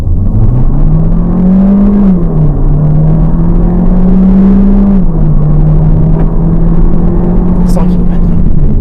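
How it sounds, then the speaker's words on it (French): A Changan UNI-V sedan in sport mode pulls away from a standstill, its engine droning loud and close as it rises, dips at each gear change and climbs again, with no talking. "je passe en mode sport. Voilà, je suis totalement à l'arrêt, je vais désactiver l'auto-hold et je caresse l'accélérateur."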